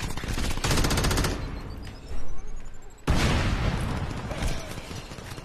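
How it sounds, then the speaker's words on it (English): Automatic gunfire in the video game Crackdown, with enemies shooting at the player: rapid bursts of machine-gun fire and heavier booms fill the scene, pausing briefly before another dense volley. "Can these people just stop shooting me?"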